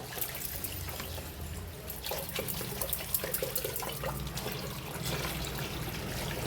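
A stained cloth is washed by hand under running water, with a steady tap flow, trickling and splashing continuing throughout at moderate level and no talking.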